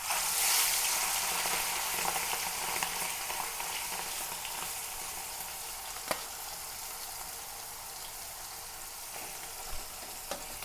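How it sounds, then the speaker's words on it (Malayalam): A kilo of prawns marinated in chilli powder fries in hot oil with a loud, continuous hiss. The sizzle eases slightly over time, with occasional sharp clicks and pops close by. "നമുക്കിതൊന്ന് ആദ്യം വറുത്ത് കോരാം"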